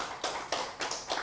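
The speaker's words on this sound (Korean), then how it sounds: "박수 한번 쳐보세요." A few audience members clap in a hall, four slow, evenly spaced claps, soft and fairly close, with no talking over them.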